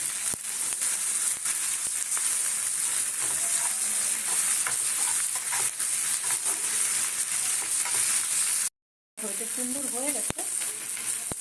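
Lentil fritters fry in a pan of oil, a steady close sizzle with soft stirring scrapes and a brief gap near the end.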